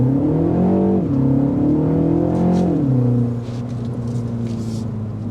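A 2025 Mini Cooper S with 201 horsepower pulls hard through the gears on a test drive, its engine note climbing, dropping at each shift and climbing again, loud and close throughout with no talking.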